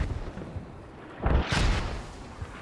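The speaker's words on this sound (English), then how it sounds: "mortar lands right next to the entire squad spawning seconds after they spawned" Mortar shell bursting right beside a squad as they spawn in a multiplayer war game on the Chora map: a single heavy, rumbling blast rising out of low ambient noise and fading over about a second.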